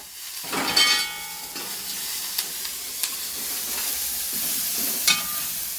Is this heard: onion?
yes